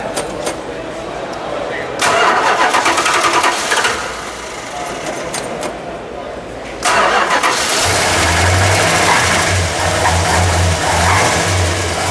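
A 1969 Dodge Charger 500's 440 V8 engine cranks and catches, idling with a rough, steady rumble, then roars louder as it's started again and settles into a deep, sustained idle.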